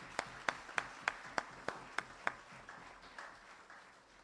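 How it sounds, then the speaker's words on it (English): An audience at an aldermen election ceremony claps, starting with eight sharp, evenly spaced claps that give way to softer, scattered applause that fades out. The room sounds fairly distant and quiet. "Could we give them a round of applause?"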